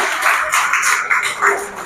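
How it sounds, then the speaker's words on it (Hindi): Loud clapping from a group at a Jeevan Tarang programme at an ITI, dense and steady for about two seconds with voices mixed in. "जोरदार तालियां हो जाए माला के लिए भी"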